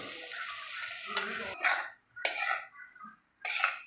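Masala paste for a Malvani prawn curry frying in oil over low heat, with soft stirring and scraping in the pan and sizzle bursts that rise and fade in short repeated waves, close by with no talk.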